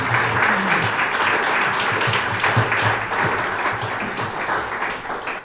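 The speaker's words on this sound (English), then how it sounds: "let's give everyone another round of applause for the wonderful layered readings" Audience applause fills a poetry awards reading, a dense, steady wash of many hands clapping that holds loud throughout and tapers slightly at the end.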